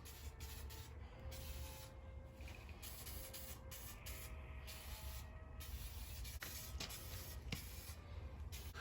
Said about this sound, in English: we'll just use some Walmart brand black spray paint